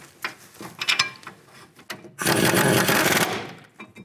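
A ratchet clicks in short bursts while bolts are tightened on a brake caliper bracket over the rotor of a 2008-2013 Nissan Rogue, ending in a louder, denser burst of rapid ratcheting.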